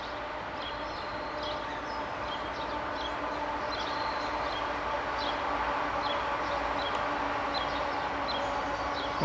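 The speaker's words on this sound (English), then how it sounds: "Got a train coming to roll it." A long CSX freight train with several NS, UP and BNSF locomotives and a DPU rounds a hairpin curve at slow speed, a steady low rumble with faint repeated metallic squeals from the wheels.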